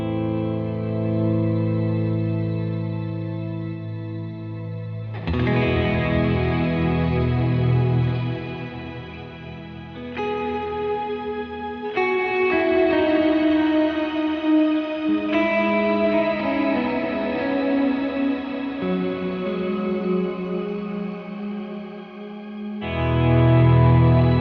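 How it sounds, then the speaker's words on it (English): Electric guitar swelling through an Eventide shimmer reverb with added delay, slow sustained chords blooming into a wash of bright, octave-up ambience, changing chord every few seconds, smooth and continuous with no speech. "Eventide does my all-time favorite type of shimmer."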